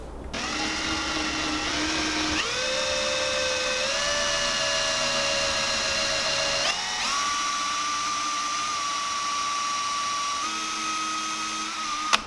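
A power drill whines steadily and loudly, its pitch stepping up and down as it bores into wood for a bass glidebait lure, running continuously for about twelve seconds.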